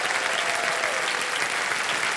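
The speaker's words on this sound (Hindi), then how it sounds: "एक बार तालियां बज जाए इनके लिए" Studio audience on the Kaun Banega Crorepati quiz show applauding a contestant, loud, dense and sustained clapping from a large crowd filling the whole stretch.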